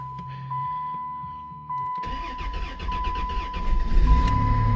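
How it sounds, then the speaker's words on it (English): A car engine cold-starts after a quiet moment with a faint electronic tone: a short cranking burst catches, and the motor settles into a loud, rough, uneven idle close by. "Let's do a cold start as the camera pans away from spoilers."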